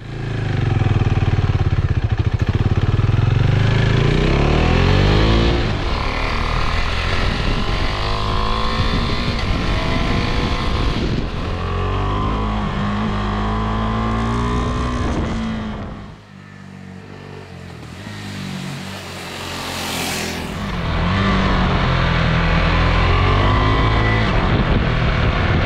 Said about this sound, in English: I'm gonna hop onto this bike and I'm gonna ride it for about 170 kilometers today